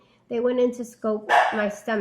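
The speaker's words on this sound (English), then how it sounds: "Sorry, that's my dog." A pet dog barks and yips in short bursts close by while a person keeps talking over it indoors.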